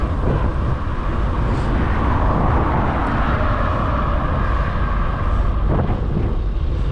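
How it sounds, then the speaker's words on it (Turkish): Steady, loud wind buffets the microphone with a constant low roar in Şarköy, Turkey, broadband and unbroken throughout, with no voices. "Bugün hava güzel fakat aşırı rüzgarlı."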